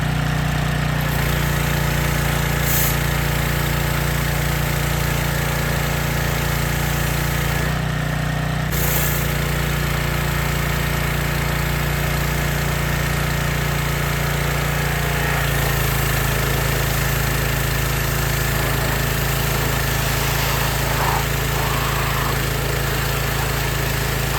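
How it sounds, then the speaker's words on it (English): A pressure washer runs loud and close with a steady, continuous engine-driven hum and drone while cleaning a 1977 Honda XL100 motorcycle, briefly dipping partway through, with no speech. "we're getting ready to power wash this thing and make a transformation"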